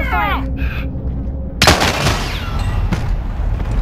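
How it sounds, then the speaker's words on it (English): Gunfire in Call of Duty Warzone, a loud sharp burst of shots breaking in partway through after a quieter stretch of game sounds and chirps, followed by lingering rattling noise. "Receiving hostile fire."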